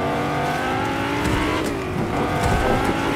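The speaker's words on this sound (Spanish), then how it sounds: "Voy a pegar turbo. Cuando pega turbo es increíble." A car in the Fortnite video game roars with a turbo boost, a loud, continuous revving engine with rising surges and tire noise throughout.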